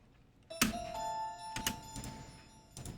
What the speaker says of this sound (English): see if I can find maybe a pluck or a bell there that's similar